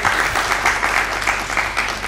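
Applause from an audience at a Hindi-language talk or quiz session on nutrition and malnutrition, a dense, steady clapping that holds for about two seconds without voices.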